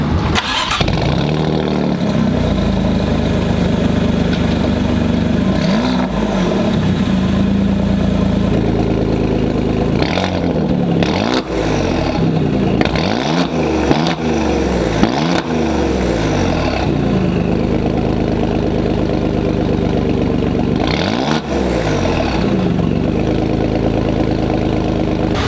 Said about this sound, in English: what you just heard was Alfa Romeo's Monza exhaust that is used for the Giulia QV.